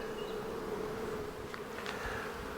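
Honey bees buzz steadily at an open hive during an inspection, a dense close hum of many insects with a sustained drone and occasional louder passes near the listener.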